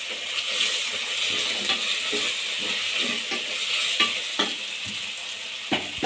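Mint and coriander stirred into a sizzling pan for green chicken biryani: a steady frying hiss runs throughout, broken by regular scrapes and taps of a spoon against the pan.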